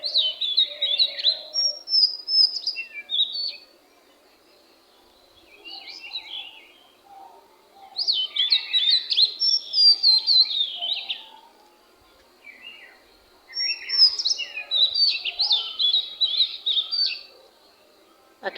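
Flocks of birds chirp and twitter on a cool morning, bright overlapping calls coming in three dense bursts separated by quieter gaps, fairly close and without talk.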